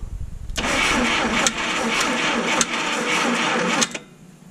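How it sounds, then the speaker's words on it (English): An old classic car engine cranking over on a remote starter: a loud, rhythmic churning that pulses about four times, abruptly starting and stopping without catching, close and alone. "but the engine rolls over"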